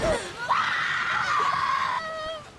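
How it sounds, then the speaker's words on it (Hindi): A woman lets out a long, loud, wavering scream as she lifts her head out of water, heard close and alone, tapering off near the end. "पाइपर पानी से अपना सर बाहर निकालकर चीख कर कहती है"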